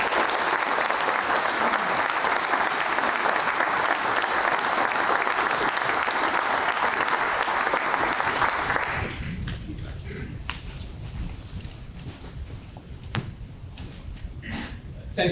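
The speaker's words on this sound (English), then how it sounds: "a round of applause for the old outgoing commanding officer" A crowd at a Marine Corps change of command ceremony applauds the outgoing commanding officer with loud, sustained clapping that fades to a quieter patter after about nine seconds.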